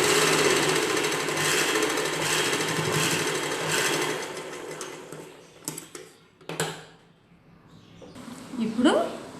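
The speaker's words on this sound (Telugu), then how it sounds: "డ్రెస్ పీస్ని కూడా అంచులు మడిచి ఇలా కుట్టు వేసుకోవాలి" Sewing machine running steadily while stitching the folded edge of a dress piece, a dense continuous whir for about five seconds, then it stops and a few handling clicks and a short voice follow.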